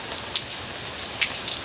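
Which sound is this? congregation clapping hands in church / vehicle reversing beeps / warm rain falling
warm rain falling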